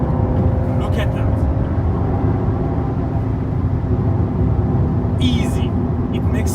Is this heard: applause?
no